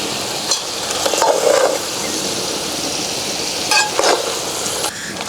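Goat head curry meat fries with chillies, ginger and garlic in a pan, giving a loud, steady sizzle up close, broken by a few bursts of stirring and scraping against the pan.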